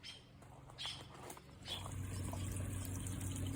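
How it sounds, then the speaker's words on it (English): A garden water feature near a patio door trickling softly and continuously, faint and close, with a gentle steady flow that grows slightly fuller toward the end. "We have a water feature near the patio door"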